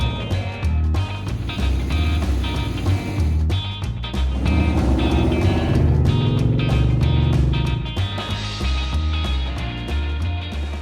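A 1940 Ford hot rod custom powered by a 392 Hemi engine runs steadily, a loud, continuous low rumble with a rough idle and slight rises in revs throughout.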